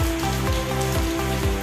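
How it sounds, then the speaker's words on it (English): Hard rain from Hurricane Beryl pours steadily outside a house, a dense continuous hiss of falling water with a low rumbling undertone and periodic thumps, no voices present. "we are having a lot of rain."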